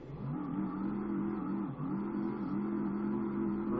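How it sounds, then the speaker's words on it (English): Car engine idling and humming steadily in the RevHead video game, on a K5 Blazer build, a continuous low engine drone with a slight dip partway through and no speech. "oh dang it, turn the engine off"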